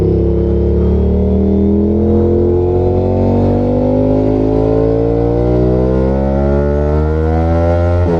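A loud, close Aprilia RS 457 motorcycle engine with its exhaust silencer removed, raw and unmuffled, holds a deep rumble and climbs steadily in pitch as it revs up, with no voices.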